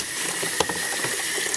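Hot water runs from a tap into a sink while yeast-washing gear for home brewing is rinsed, a steady close hiss of flowing water with small splashes.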